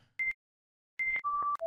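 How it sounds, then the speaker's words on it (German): Recurring electronic beep in the indie horror game The Prototype: a short tone, a pause, then a sequence of three steady tones stepping down in pitch, clean and clear with nothing else around. "Und wieder dieser Piepton."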